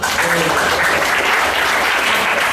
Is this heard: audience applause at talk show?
yes